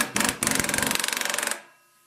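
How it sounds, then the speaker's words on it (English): A low-set air impact wrench tightens a 14 mm bolt during a torque converter install on a Predator 420cc engine, giving one loud close burst of rapid hammering that lasts about a second and a half and stops abruptly. "I got my air gun impact wrench on real low"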